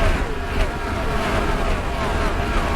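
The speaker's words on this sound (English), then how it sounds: "You can hear how wound up them engines are." Race car engines in NASCAR Racing 2003, during the 2000 Kmart 400, hold a loud, continuous, high-revving roar as the field runs at full speed with no break in the sound.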